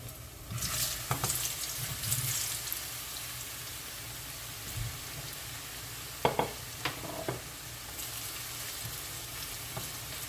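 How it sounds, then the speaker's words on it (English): Food frying in hot oil for Jamaican-style ackee and saltfish tacos with plantains, a soft continuous sizzle with a few clinks and stirring knocks, fairly quiet and with no talking. "Just gonna allow these to just fry golden brown."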